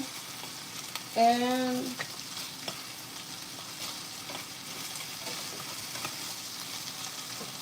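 Onion fries in a pan for a basic chow mein, giving a steady, close sizzle and hiss. Early on, a brief rising squeak cuts through before the frying settles back to an even crackle.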